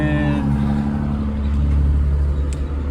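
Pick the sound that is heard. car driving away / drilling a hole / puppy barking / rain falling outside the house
car driving away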